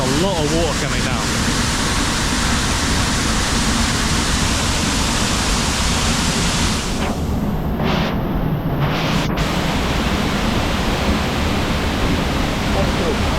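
Powerful waterfall with lots of water crashing down, a constant loud, close roar that stays steady throughout, with a person's voice faintly present beneath the rush.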